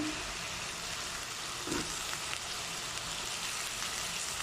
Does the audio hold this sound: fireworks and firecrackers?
no